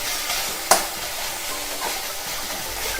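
Dried fish frying in a pan, a steady close hiss of sizzling oil broken by a sharp scrape of a spoon stirring it, with a few softer stirring scrapes after.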